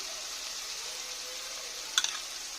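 Ground ginger and garlic fry with onions in a pan, making a constant close sizzle with one brief clatter of a spoon near the end.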